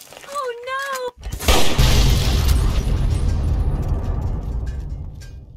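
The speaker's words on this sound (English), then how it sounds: "where did you get a fucking nuke?" A Fallout 3 nuke detonates in a sudden loud boom that swells into a long rumbling roar and fades slowly, following brief high tonal sounds and a moment of silence.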